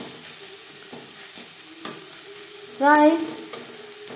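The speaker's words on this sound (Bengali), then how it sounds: "3-4 মিনিট বেগুন ভাজা করে নেব" Eggplant and onion frying in a pan over a low to medium flame gives a soft, steady sizzle with stirring scrapes throughout, and a short spoken word cuts in near the end.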